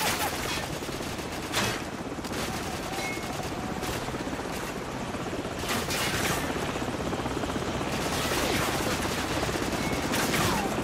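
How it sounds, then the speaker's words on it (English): Helicopter rotor drone with bursts of rapid gunfire in Call of Duty 4: Modern Warfare, a military shooter game, steady and loud throughout with repeated sharp volleys and no speech. "So, grab a Stinger and take out that chopper."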